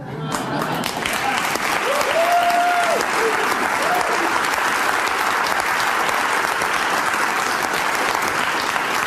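Sustained loud applause and clapping from a live studio audience at a political talk show, steady throughout with a brief voice rising over the crowd.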